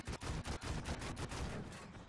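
Tank gunfire in World of Tanks, from a Pz II J light tank fighting a T-18: a rapid, regular burst of about ten sharp shots, dense and punchy, fading out at the end.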